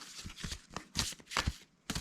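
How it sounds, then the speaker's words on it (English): Tarot cards being shuffled by hand during a reading, a series of close, crisp riffling bursts in an irregular rhythm with short pauses between them, no talk. "Find new cards always take long to shuffle."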